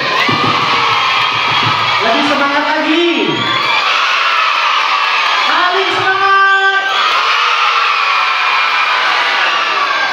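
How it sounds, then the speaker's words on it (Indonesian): Schoolchildren at an Islamic elementary school storytelling event in Langsa shout and cheer loudly together as a crowd, with an adult voice speaking over the noisy, sustained din. "Tepuk tangan sambil teriak."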